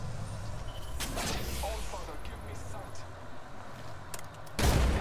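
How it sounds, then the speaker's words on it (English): Grenade blast in Apex Legends, a heavy booming burst near the end following earlier impacts and gunfire-like bangs, with voices talking over the action. "threw a grenade"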